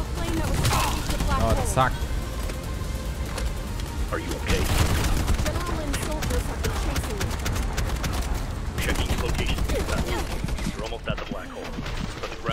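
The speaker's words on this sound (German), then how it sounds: "jetzt gibt's hier fette Ballerei" Heavy gunfire in the shooter Bright Memory Infinite, dense bursts of shots and booming impacts crowding together loudly, with a man briefly exclaiming over the barrage.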